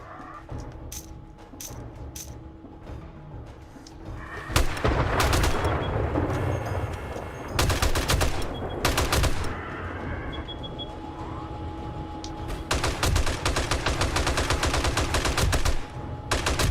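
M60 turrets firing during a Blood Moon in the video game 7 Days to Die, loud rapid automatic bursts of several seconds each, separated by short pauses and scattered single shots.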